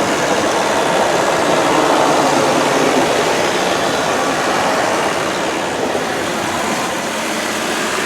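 A 2002 Chevrolet Cavalier sedan's 2.2-liter engine runs at a steady idle, a loud, even, broadband whir heard up close with no voices.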